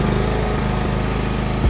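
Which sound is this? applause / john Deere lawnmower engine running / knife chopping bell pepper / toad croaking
john Deere lawnmower engine running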